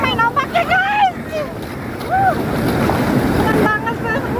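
Ocean surf rolling onto the beach at Gurun Karang Bolong beach, Cibitu, with a steady wash of breaking waves and wind rumble as people shout and talk excitedly over it.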